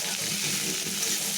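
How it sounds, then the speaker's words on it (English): Olives frying in a pan with cumin and fenugreek seeds sizzle steadily as they are stirred, a close, continuous crackling hiss throughout with no speech. "stir it"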